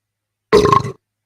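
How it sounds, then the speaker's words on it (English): A single short cartoonish burp sound effect from a Kaboom game, lasting about half a second, loud and isolated in silence. "So now whenever you hit Mark, you can hear the burp sound effect."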